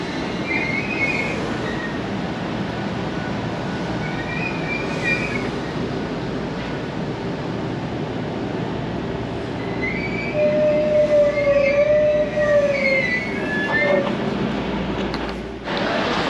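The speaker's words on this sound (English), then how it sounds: "Got an EMR service arriving." East Midlands Railway train pulling into a platform at London St Pancras, a sustained rumble of wheels with high squeals and brake screeches rising as it slows, close and continuous.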